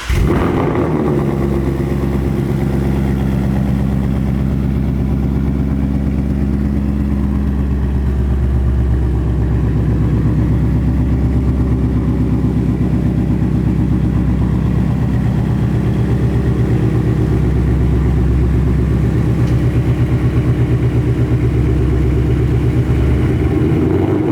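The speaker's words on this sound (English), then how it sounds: "Kooks 1 7/8 long tubes to the Steeda X pipe to the factory catback exhaust" A Ford Mustang Mach 1 V8 with Kooks 1 7/8 inch long tube headers, a Steeda X pipe and the factory catback exhaust, idling warm. A loud, close, deep and steady rumble runs the whole time.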